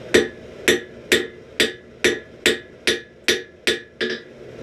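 A hammer strikes a chain link on an anvil during forging, ten sharp ringing blows in a steady rhythm about half a second apart, close and loud.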